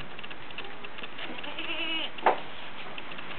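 Goats in a barn at bedtime give a single short bleat near the end, heard over a steady low background hum with faint rustling.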